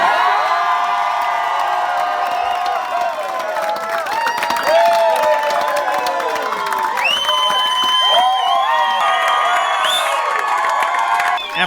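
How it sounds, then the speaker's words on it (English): Cheering, whoops and clapping fill a house as family and friends celebrate an NFL draft phone call, a loud, steady crowd of excited voices including children's shouts lasting throughout. "After a round of applause and cheers throughout the house, Ross headed to his family for hugs."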